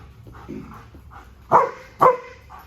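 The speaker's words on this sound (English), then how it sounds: "Super happy dog." A happy female dog barks twice in quick succession at close range, loud sharp woofs after a few softer whimpers and small vocal sounds.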